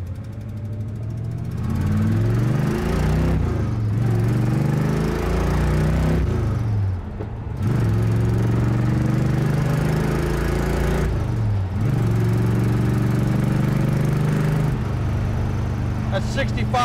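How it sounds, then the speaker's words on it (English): A car engine pulls hard through the gears from first, its note climbing and then dropping at each of several upshifts, loud and close with no talk over it. "Drop it into first and run through the gears a little bit."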